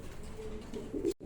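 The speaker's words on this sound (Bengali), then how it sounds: "যে আগে টাকা পাঠাবে সেই পাবে 2300 টাকার বিনিময়ে কবুতর জোড়া" A pair of pigeons coos in short, soft phrases that grow louder toward the end, then stop abruptly, with no voices heard.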